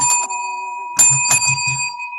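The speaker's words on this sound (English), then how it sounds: "You ain't got to hit your bell." A desk bell is struck twice in a talk-show studio, bright ringing tones sustaining with a steady high hum underneath, the second strike followed by a short burst of muffled low knocks.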